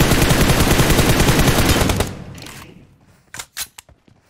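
Sustained automatic gunfire in PUBG Mobile, a dense loud rapid burst lasting about two seconds, then fading, followed by a few separate sharp shots.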